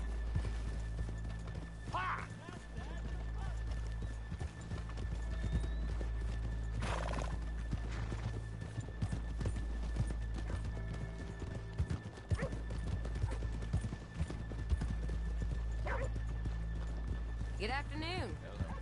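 Horses in the Red Dead Redemption 2 game clip-clop steadily on the ground while several whinnies and neighs ring out, with people talking over the hoofbeats throughout.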